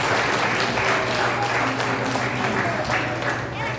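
Congregation at a church revival night clapping together, a dense, ongoing burst of applause with voices blended in, loud and even throughout.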